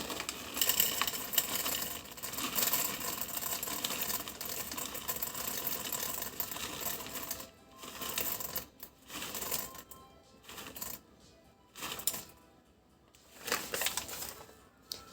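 Chocolate chips poured into a Thermomix TM6 bowl for American-style cookie dough: a dense, continuous rattling patter of small hard pieces, close and loud, thinning into brief scattered bursts toward the end, with no talking.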